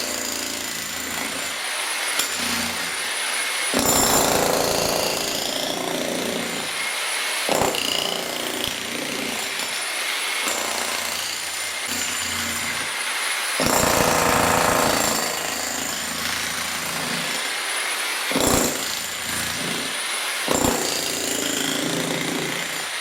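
A Kango hammer breaks up the floor of a cottage during renovation, making a loud, sustained, rapid hammering roar in long runs broken by short pauses as the tool is lifted and repositioned.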